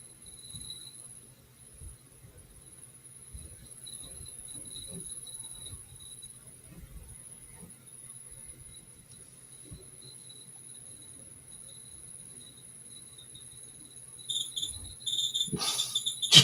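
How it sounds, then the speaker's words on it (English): An electric fan squealing: a thin, steady high-pitched whine that runs continuously and faintly, over soft low thumps and rustles, with a louder clatter of noise near the end. "that fan is really starting to squeal"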